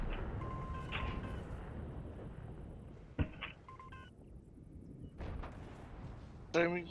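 Artillery fire in the tank game World of Tanks: a sharp, loud boom cuts through the middle, followed by further thuds and beeping interface tones over steady engine rumble.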